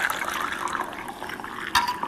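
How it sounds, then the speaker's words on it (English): Ice cream custard pours slowly through a fine mesh sieve into a cup, a soft, continuous liquid stream with a brief louder splash near the end. "I slowly pour it into"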